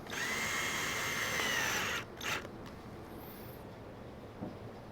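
A power drill drives screws into a small birch table board, a loud steady whir for about two seconds, then it stops, leaving faint background noise and a brief knock.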